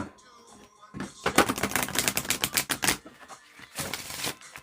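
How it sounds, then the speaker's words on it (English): A deck of tarot cards is shuffled by hand, giving rapid crisp riffling bursts and clicks that run for about two seconds, pause, then return in a shorter flurry, close and fairly loud. "Let me shuffle these cards here."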